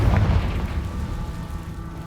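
A Confringo blasting spell explodes in Hogwarts Legacy, played on PC: a deep booming blast up close that rolls into a rumbling, crackling tail lasting a couple of seconds, with no talk over it.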